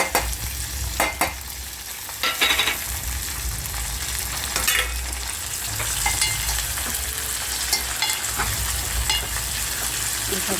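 Carrots and tomatoes roast in a pan for khichdi, with a steady close sizzle and repeated scraping stirs of a spoon against the pan. No one speaks.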